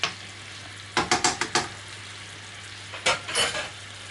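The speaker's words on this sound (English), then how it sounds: "Give the carrots a bit of a mix, just so that that honey gets over them" Carrots coated in honey stirred in a hot frying pan, a steady sizzle broken by scraping, clattering strokes in two short bursts, close and fairly loud.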